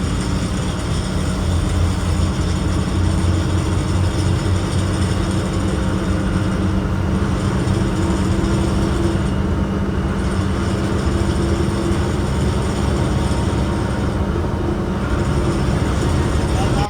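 An Elite suit class bus on a rainy Dhaka to Rangpur run hums with a steady engine drone and road rumble inside the cabin, broad and continuous, with a voice faintly present under it.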